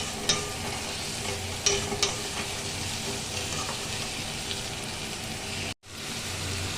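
Potato, egg and cauliflower stir-fried together in a pan, a continuous close sizzle with scraping spatula strokes and a few sharp clicks, broken by a split-second dropout near the end.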